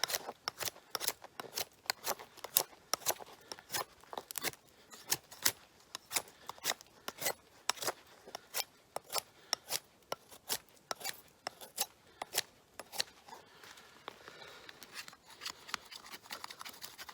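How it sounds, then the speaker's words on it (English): Knife scraping and shaving wood into a small pile of fire-starting shavings outdoors in snow, a steady run of short, crisp, rasping strokes repeated in quick rhythm, close and fairly quiet with no talk. "I'm going to go ahead and make a little pile of regular shavings"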